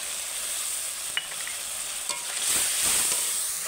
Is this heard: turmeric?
yes